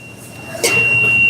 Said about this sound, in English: It is by far the loudest alarm in any kitchen I've ever been in,